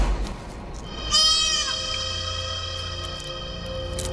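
Goat bleating in a Bhojpuri movie scene: one loud, wavering bleat arrives just after the one-second mark over a steady background, then fades into lingering ambience.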